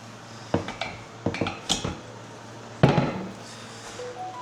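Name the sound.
designer radiator being hung on wall brackets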